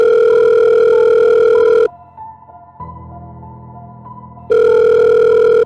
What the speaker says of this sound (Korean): 제가 일하고 있던 장의사에 전화 한 통이 왔습니다